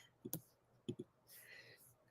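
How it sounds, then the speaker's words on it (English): Computer mouse clicking at a desk, a few soft, close clicks in small pairs, followed by faint rustling and breathy movement in a quiet room. "Do a little clicking around, checking."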